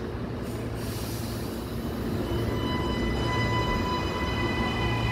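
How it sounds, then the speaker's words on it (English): A train departs Kippering station, rolling along with a steady rumble and faint squealing wheel tones that rise slightly as it gathers pace, no speech. "Goodbye, Kippering train."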